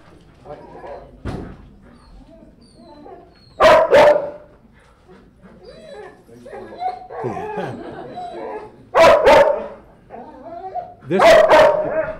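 Police K-9 dogs bark in loud bursts of two or three barks at a graduation ceremony, separated by quieter crowd murmur and indistinct talk.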